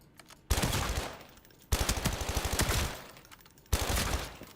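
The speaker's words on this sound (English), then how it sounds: "I feel like the submachine gun is a little bit faster RPM, but not bad" Submachine gun firing in the shooter game Arena Breakout, three loud close bursts of rapid automatic fire, the middle one longest with distinct fast shot pulses, separated by brief quiet gaps.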